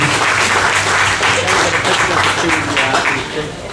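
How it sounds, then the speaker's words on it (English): A crowd at a tribute evening at Salisbury House breaks into a loud, dense round of applause for Earl Barish's multiple-musicians display, continuous throughout and easing slightly at the close. "I'd be remiss if I didn't ask for a round of applause for Earl Barish for this multiple musicians display"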